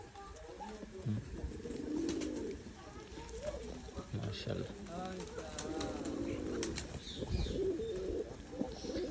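Pigeons coo repeatedly in a village farmyard loft, soft rolling calls rising and falling close by while a person talks over them throughout.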